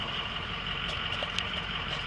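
A Ford F250 truck engine running at high idle, a steady, even drone with a constant whine holding throughout, close and continuous with no talk.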